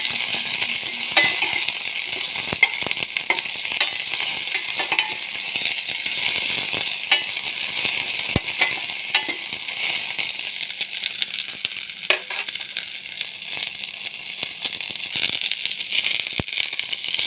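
A spoon stirs sliced medium onion with salt in a cooking pan for a tapioca and chickpea curry, with light scraping and clinking over a soft, constant sizzle.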